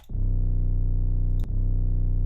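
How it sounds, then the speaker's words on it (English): A deep, loud 808 bass note held steady with a booming low tone, briefly cut by a click as it retriggers about halfway through. "it's a perfect 808 for rolls and glides and different things like that"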